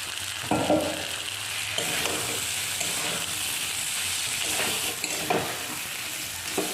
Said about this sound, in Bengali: ভালো মতন করে মশলাটা কষানো হয়ে গেছে